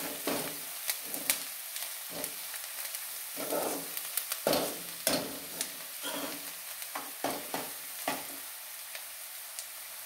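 Egg masala curry stirred in a frying pan: a continuous sizzle broken by repeated scraping strokes of a spatula in an uneven rhythm, close and fairly quiet, with no voices.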